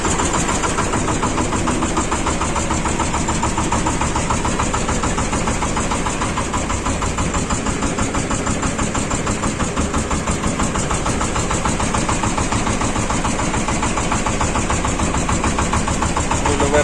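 A Shifeng 240 mini tractor engine runs steadily, loud and close, with a continuous chugging drone and a rapid even knock throughout and no talking.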